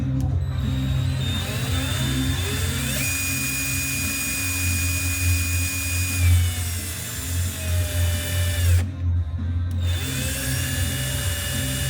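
A cordless drill spins a motorcycle speedometer for calibration at 70 km/h, making a steady, close motor whine with gliding, shifting tones and a brief dip near the end, and no one speaks.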